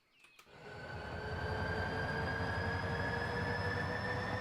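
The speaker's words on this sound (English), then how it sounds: "This is the Canadian Northern train you guys have been telling me to put in the game." Canadian Northern train in the city-building game Cities: Skylines, a rumbling rail run that swells in after a short click, with sustained wheel hum and faint high squealing tones, steady and close.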